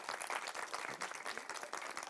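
Applause from an audience at a film festival event rises into a dense, steady wash of clapping that fills the entire stretch, fairly faint and heard from a distance.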